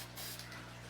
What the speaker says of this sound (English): This can's not spraying very well